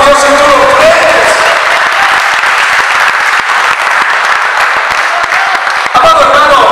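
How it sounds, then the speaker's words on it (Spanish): A large church congregation applauds continuously and loudly, dense clapping sustained throughout, with voices faintly audible underneath. "Dale ese aplauso a Dios si tú lo crees."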